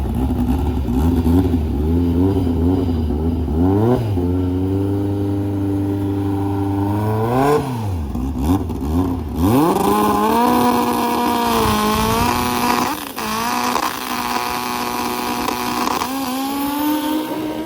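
A supercharged LS 416 blower engine fires up for the first time and revs repeatedly, swelling and dropping through long throttle blips over a loud steady rumble, close and powerful throughout.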